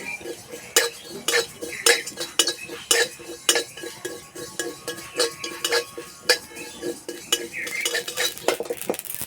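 Whole mustard seeds frying in a dry pan while a metal spoon stirs and scrapes, giving repeated sharp clinks and scrapes in an uneven rhythm over a faint crackle.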